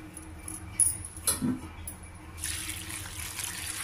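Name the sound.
water poured into a pan with chopped cabbage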